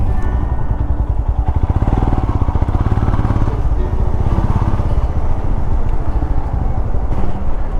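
Royal Enfield Himalayan motorcycle riding on the road, a loud steady single-cylinder engine thump with constant rumble and wind roar, close and unbroken throughout.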